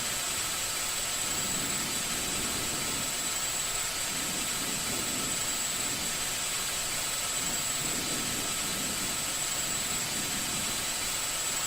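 A video game aircraft with a steady jet engine roar and broad hissing rush that holds constant and loud throughout, with no voices.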